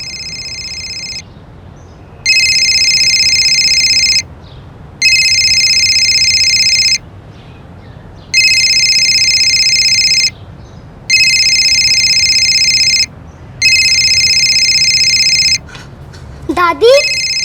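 A mobile phone ringtone rings inside a house in repeated electronic bursts of about two seconds with short gaps between them, steady and fairly loud, followed by a brief voice at the end.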